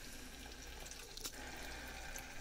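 Hydraulic lines on the GraffitiBot purge fluid and bubbles in a steady, faint watery hiss and trickle, with a brief gurgling swell near the middle and no voices.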